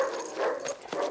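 Dogs give short, muffled barks and yips mixed with whimpering, moderately close and rising out of a busy background.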